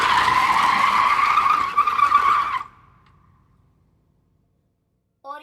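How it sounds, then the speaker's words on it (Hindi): A car skids to an abrupt stop in an audio-drama effect, a loud sustained tire screech lasting about two and a half seconds before cutting to near silence, with a brief faint sound at the very end. "वो एक झटके में कार रोक देता"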